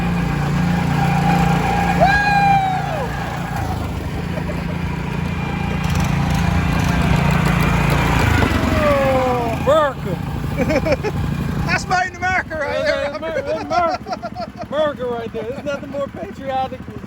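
The engine of a PermaGreen ride-on lawn spreader runs steadily outdoors. Its constant drone sits under people talking, laughing and whooping.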